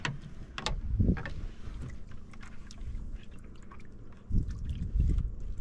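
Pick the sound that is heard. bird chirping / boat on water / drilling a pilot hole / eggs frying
boat on water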